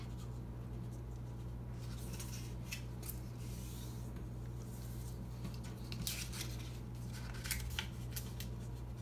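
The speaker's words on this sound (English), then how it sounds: "fold the top two corners towards the middle to make a point" Sheet of paper being folded into a paper airplane, top corners creased toward the middle, giving soft intermittent rustles and crisp creasing scrapes close by over a steady low background hum, with no talking.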